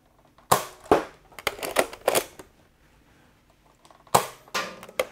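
A Buzz Bee Air Warriors Ultra Tek 8 toy blaster fires Nerf darts, giving a few sharp, close pops and clacks with mechanical rattles in between and brief quiet gaps.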